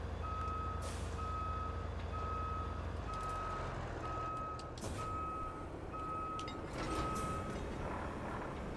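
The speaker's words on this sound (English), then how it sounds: "fortunately this is like a super articulated truck, so it's a lot easier to back up" A super articulated truck reverses in the video game Roadcraft, with about eight evenly spaced, clear reversing beeps over a loud, steady diesel engine rumble.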